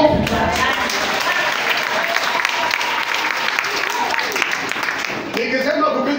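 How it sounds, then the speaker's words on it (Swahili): Church congregation clapping in response to a preacher, a dense sustained round of applause at steady volume with some voices faintly mixed in and a slight dip near the end. "Na yeye nipigie makofi"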